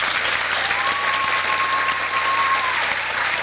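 Dense, steady applause from a Halloween party audience fills the space, continuous and fairly loud for the whole stretch, with a faint tone running through the middle.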